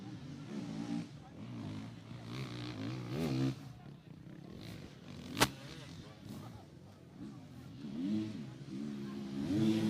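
A KTM enduro motorcycle working through a tyre section of a technical off-road race stage near Peso da Régua, its engine revving and rising and falling at moderate distance beneath ongoing commentary, with one sharp click midway.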